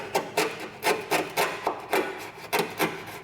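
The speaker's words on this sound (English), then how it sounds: "If I just take a regular like paint scraper or a drywall scraper" A paint scraper rasps across badly flaking clear coat on the front of a Mercury Capri, making about eight quick, evenly spaced scraping strokes close up, with no talking.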